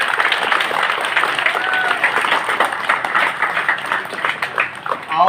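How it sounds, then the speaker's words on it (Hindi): Crowd clapping at a parish Independence Day celebration in Sarupathar, Assam, a loud, steady wash of many hands filling the whole stretch, with some voices mixed in. "एक बार ताली मार दो भाई"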